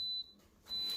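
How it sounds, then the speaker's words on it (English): A high electronic buzzer or alarm beeps steadily, stops briefly, then resumes, with a short click near the end; no one speaks. "The buzzer's going off."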